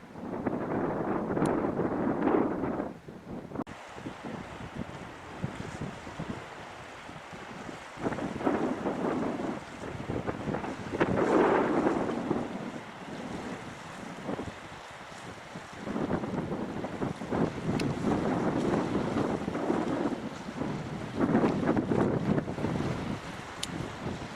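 Steady gusting cold wind buffets the microphone on the Pembrokeshire coast, rising and falling in rumbling surges with a faint wash of surf beneath.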